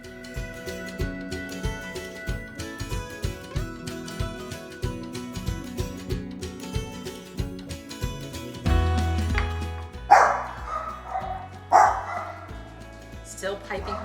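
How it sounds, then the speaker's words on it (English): Small dog barking in a home kitchen, a few sharp yips and barks under music, with louder bursts near the end. "Too early for barking dogs, I swear."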